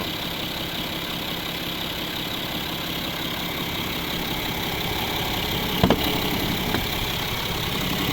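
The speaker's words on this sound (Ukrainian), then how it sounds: "Ось робота двигуна." A BMW 740d (F01) xDrive 3.0-litre turbo diesel engine from 2011 idles steadily with a low, even rumble and faint knocking texture, close by, with a brief clunk partway through.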